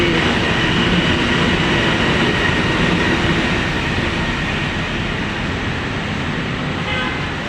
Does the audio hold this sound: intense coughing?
no